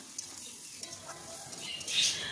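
A spoon stirs boiled, salted chana dal through spices in a pan, giving soft scraping strokes and a faint sizzle at low level, with no talk.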